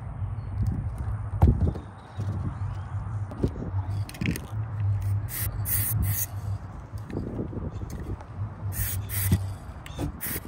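Short hissing bursts of an aerosol spray can painting the edges of a book, several quick sprays in a row near the end, up close, with light handling noises beforehand.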